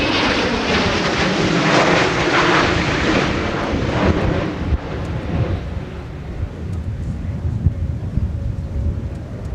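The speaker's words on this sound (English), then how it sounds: "the aircraft taking off right towards the sun" A Delta AirTran Boeing 717 takes off from Minneapolis–St. Paul Airport, a loud broad jet roar that swells and then slowly fades as it climbs away, with wind buffeting the microphone.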